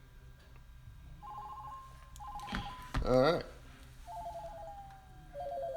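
A phone ringtone of tonal beeps and a warbling ring plays through speakers connected to a DROK wireless Bluetooth audio receiver board, with a brief spoken word and light background noise.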